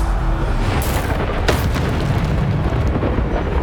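Bombarda spell explosions in the Hogwarts Legacy video game, a loud booming blast near the start followed by a second sharp burst, with rumbling roar continuing under the combat.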